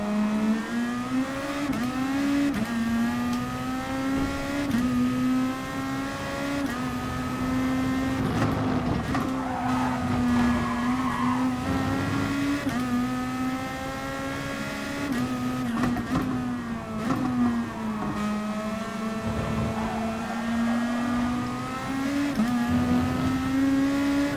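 Race cars in Gran Turismo Sport pulling into the pits, a sustained close engine drone that rises and dips in pitch as the car slows and accelerates, with a few brief bumps and no talk throughout.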